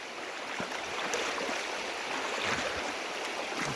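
Creek water flows steadily at the Elwha River crossing in Olympic National Park, a continuous broadband rushing wash with no talk, heard up close from the trail.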